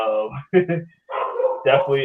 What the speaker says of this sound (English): Sorry if you hear the dogs in the background